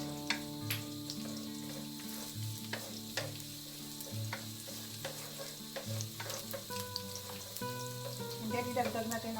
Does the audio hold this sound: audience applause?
no